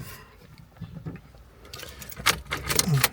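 Car keys for a Mitsubishi Lancer jangle and clink in a few bright bursts, quiet at first and busier toward the end, with no talking.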